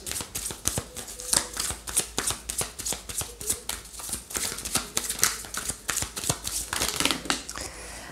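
Tarot cards are shuffled for a reading, giving a long run of close, crisp riffling and slapping card sounds in quick irregular bursts, with no talking.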